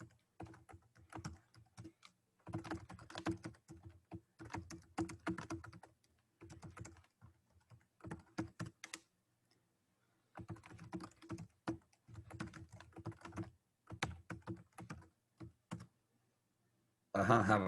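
Someone types on a computer keyboard in rapid clattering bursts separated by short pauses. A voice talks quietly at times, and a louder sound cuts in at the very end.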